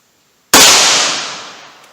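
A single sharp, loud report from a .38 Special +P Hornady Critical Defense round fired from a 4-inch barrel breaks the silence and decays over more than a second.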